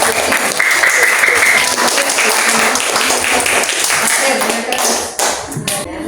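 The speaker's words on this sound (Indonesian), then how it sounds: "bisa tepuk tangan untuk Mbak" A classroom audience at an academic supervision coaching session applauds in a dense, steady burst of clapping that carries on throughout, with voices speaking underneath.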